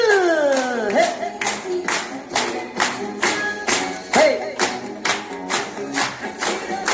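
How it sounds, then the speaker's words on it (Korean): A group claps in a steady rhythmic beat during a dementia-prevention session, sharp claps evenly spaced for several seconds, with some singing voices underneath. "고맙다. 박수!"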